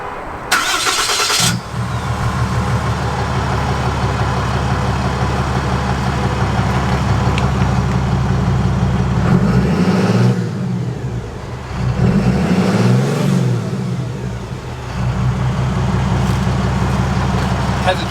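Cummins diesel pickup trucks, one fitted with an upgraded exhaust beside a stock one, crank over and fire up, then settle into a loud, steady rumbling idle with a couple of revs partway through.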